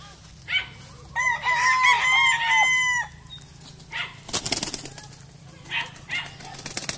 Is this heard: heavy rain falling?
no